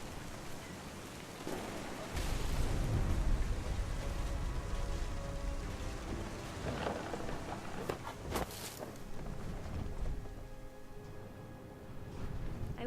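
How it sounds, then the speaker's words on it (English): Steady rain patters on a surface with a low rumbling undertone of thunder, a few sharper cracks and splashes breaking through the continuous hiss, in the video game What Remains of Edith Finch. "The thunder sounded much too close and full of angry power."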